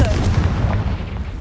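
A loud, heavy blast from the Confringo spell in the Hogwarts Legacy video game, a single booming explosion that rumbles and fades over about a second.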